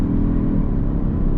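A 2022 Kia Stinger GT-Line accelerates in second gear, its engine giving a steady, deep, close rumble with no talking over it.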